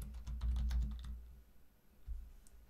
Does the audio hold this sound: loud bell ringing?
no